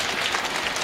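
Audience applause at a Hindi poetry recital (kavi sammelan), a steady wash of clapping filling the whole short moment at moderate loudness, with no voices over it.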